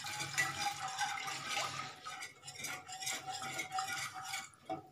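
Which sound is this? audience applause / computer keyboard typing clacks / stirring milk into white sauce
stirring milk into white sauce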